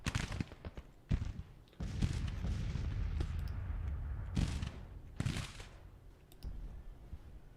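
Artillery fire in the strategy game Grand Tactician, a Union battery pounding the left flank, heard as several separate booming blasts with rumbling tails over a constant battle din.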